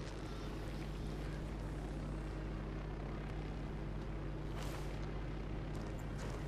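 A drone in Ghost Recon Wildlands flies nearby with a steady, droning propeller hum that holds at an even level throughout, with no speech over it.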